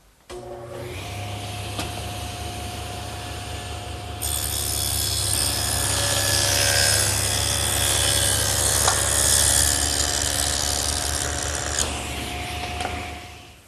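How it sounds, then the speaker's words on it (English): A dado head on a saw cuts a groove between mortises in wooden blanket chest legs: a motor hum rises into a loud, steady cutting roar for about eight seconds, then drops back as the cut ends. "take our legs and run a groove between the two mortises so that it'll accept our panels"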